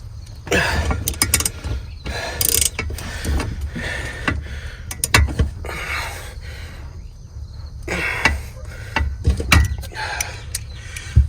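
A ratchet tightens the back-seat hardware in a 2004-2008 Ford F-150 extended cab, giving quick bursts of close metallic clicking separated by short pauses, with no talking.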